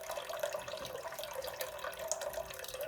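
Liquid from a can of mixed fruit is poured off and drained in a home kitchen, a continuous trickling, splashing flow that stays fairly quiet and close, with no talking over it.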